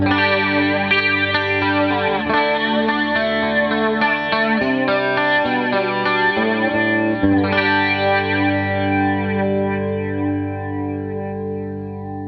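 Electric guitar picked in a melodic line through a PRS Wind Through The Trees dual analog flanger pedal, with a swirling, jet-like shimmer on sustained notes, loud and alone, fading at the end.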